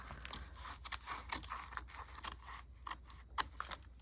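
Scissors snip repeatedly through thick paper stiffened with paint while a collage is being made, giving a run of close, crisp cuts with short pauses between them and no voices.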